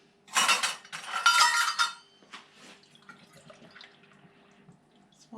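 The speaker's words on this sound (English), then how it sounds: "Then we need, I think, 2 cups of water" Water poured into a pot holding a turmeric golden paste mixture of turmeric and water, a close, splashy pour lasting under two seconds, then fading into quiet trickles and faint clinks in a kitchen.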